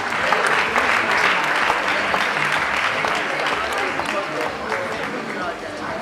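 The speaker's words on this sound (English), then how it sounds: "Please a round of applause for him." Audience applause for a guest speaker at a university medical students' public lecture, a dense, steady clapping from a crowd that stays loud and even throughout with a faint murmur of voices mixed in.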